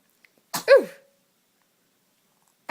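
A baby gives a single sharp sneeze, close and clear, followed by quiet, with a faint sound starting again at the end.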